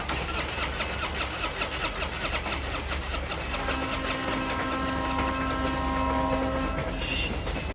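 A car idles at a railroad crossing in the film Final Destination, its steady engine rumble joined by a train's rolling roar and rising horn tones, loud and continuous before cutting off abruptly.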